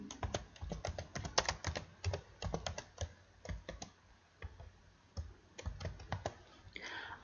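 Fast, steady typing on a computer keyboard while writing C++ code, many crisp key clicks in quick bursts with brief pauses between, close and fairly quiet, no talk.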